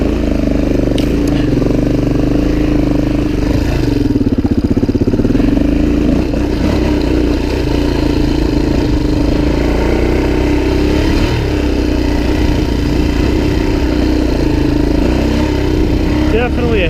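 A Suzuki DRZ400e dirt bike grinds up a rocky trail section, its engine droning loud and steady throughout with rattling and clatter from the terrain.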